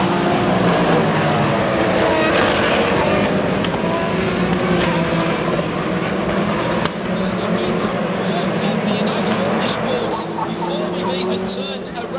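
BMW and Ferrari GT race cars roar around Road America in an IMSA championship race, engines droning loudly and continuously with shifting pitch as the field passes, while a commentator talks over them throughout.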